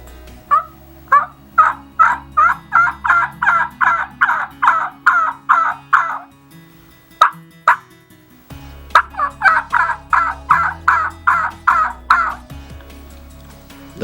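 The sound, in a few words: homemade three-reed turkey call imitating turkey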